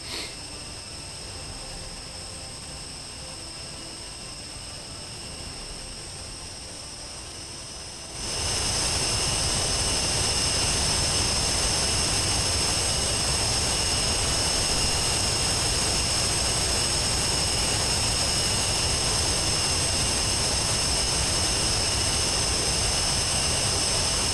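A jet aircraft taking off in the DCS World flight simulator game: a quieter background hum gives way to a sudden loud, sustained engine roar with steady high whining tones that continues unbroken, with no talk over it.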